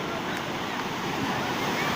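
Surf from the Caspian Sea rolls in as a steady, broad wash along the shore, with wind buffeting the microphone throughout and no distinct individual wave breaks standing out.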